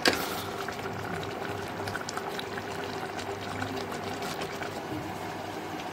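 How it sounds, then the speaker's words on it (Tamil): Mutton kulambu with masala, ginger and garlic bubbles at a rolling boil in a pot, a steady close simmering hiss with no talking. "இப்போ நல்லா கொதிச்சிருச்சு."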